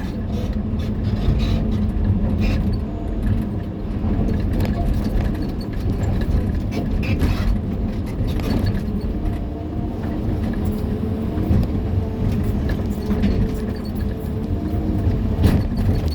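A CAT 320 D2 excavator fitted with a hydraulic breaker runs steadily nearby, a continuous low engine drone with faint irregular knocks on top, no speech heard.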